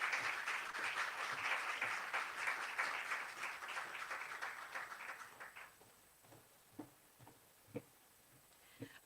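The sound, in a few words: audience applause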